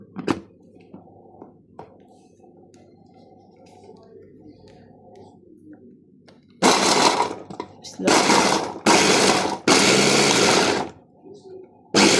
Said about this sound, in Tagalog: Put the bawang puti here. Slowly grind.